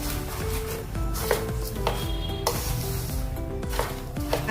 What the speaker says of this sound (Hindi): हाथ से मिक्स करेंगे।